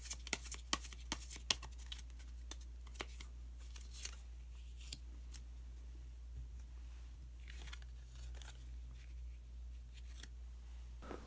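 Tarot cards are shuffled and one is drawn by hand, making faint crisp riffling snaps and soft papery flicks, quiet and close, over a low steady hum.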